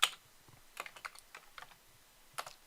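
Keys clatter on a computer keyboard as a make directory command is typed, with a sharp opening tap, then a quick, uneven run of light clicks, close and fairly quiet, with no voices.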